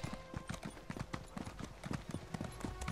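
Horse hooves clip-clop quickly and steadily in Elder Scrolls Online, a close, rhythmic trot of sharp, even hoof strikes that runs unbroken from start to finish.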